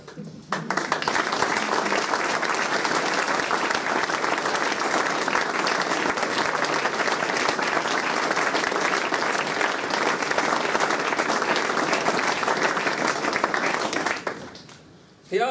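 Sustained, even applause from a concert audience, loud and steady for about fourteen seconds before stopping abruptly.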